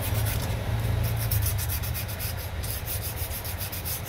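Steady, close, coarse scratching of sandpaper scrubbing carbon buildup off a contact inside an AVR-SVC 1500 voltage regulator, with continuous rasping strokes and no pauses.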